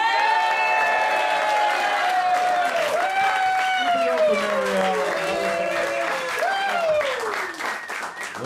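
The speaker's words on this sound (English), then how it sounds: "Clap it up right now for James Patrick!" A comedy club audience in New York cheers and claps for comedian James Patrick as he takes the stage, with loud whooping voices and sustained applause that tapers off near the end.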